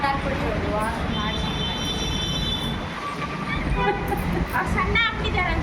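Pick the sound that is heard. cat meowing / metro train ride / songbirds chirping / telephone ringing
metro train ride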